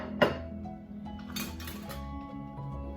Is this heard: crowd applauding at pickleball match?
no